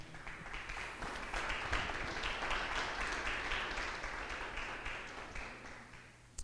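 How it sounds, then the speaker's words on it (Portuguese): A church congregation applauds during a service, a dense, steady wash of many hands clapping that holds for several seconds and then tapers off. "dê um aplauso ao Senhor Deus"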